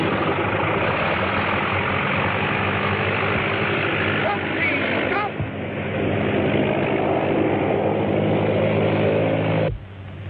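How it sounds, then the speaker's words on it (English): The engine of a radio-controlled model plane runs with a steady, buzzing drone that holds for several seconds, wavers briefly midway and drops off sharply near the end. "It's a radio-controlled plane."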